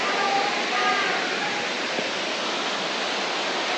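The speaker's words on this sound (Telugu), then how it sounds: "కొండల మధ్యలో నుంచి వస్తున్నాయి నీళ్ళు." A waterfall with water rushing down between large hills makes a steady, dense roar that fills the whole clip without a break.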